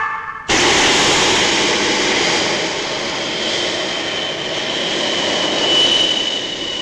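An anime rocket or jet engine ignites at launch, cutting in abruptly as a loud, sustained roar that holds steady to the end without voices.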